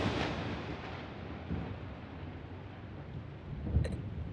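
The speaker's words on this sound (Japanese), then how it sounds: "雷が怖いって。 大丈夫だよ、雷なんて。" Thunder rolls as a low, broad rumble that holds steady throughout, swelling into a sharper, louder crack near the end; no voices.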